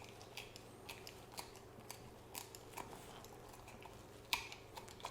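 Shears make quiet, sparse snips through the skin of a largemouth bass being skinned for a mount, close and faint, with one sharper click near the end.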